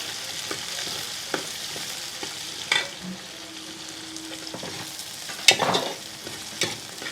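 Peeled shallots sautéing in a pan for a crab roast, a steady soft sizzle with occasional stirring scrapes and clinks, close and fairly quiet.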